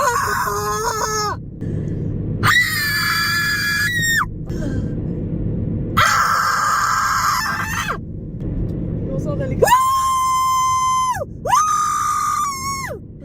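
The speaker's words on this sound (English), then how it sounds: "So hold your ears or just listen to the massive screaming." Several people at a Halloween party scream loudly in repeated bursts for a decibel meter test, long shrill wails rising and falling across the stretch with brief gaps between them.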